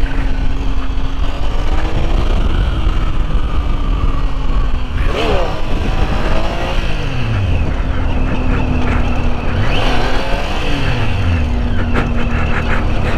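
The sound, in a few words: Triumph Tiger 800 XC motorcycle doing a wheelie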